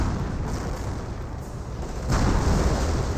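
Artillery barrage in Company of Heroes, a dense continuous rumble of distant explosions and booms that swells louder near the end.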